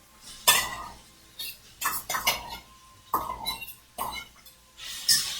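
A utensil stirring ackee and saltfish in a pan for a Jamaican breakfast, scraping and clinking against the metal in repeated short bursts, close and fairly loud.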